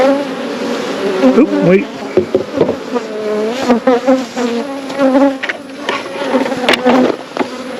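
Honey bees buzz at an open hive during a check, a dense steady drone with a sharp knock or two and a brief spoken word close by.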